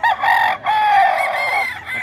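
A Melsim bloodline gamefowl rooster lets out a loud, close crow lasting about two seconds, with a brief break partway through and no voices.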